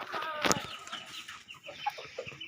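Backyard chickens clucking nearby, a cluster of short clucks and one sharper burst early on, then scattered softer calls over a quiet yard.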